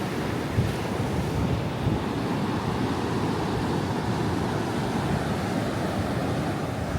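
Atlantic surf on a narrow Atlantic City beach the day after a hurricane, water washing right up to the dunes; a continuous loud roar of breaking waves mixed with heavy wind buffeting the microphone, with no voices.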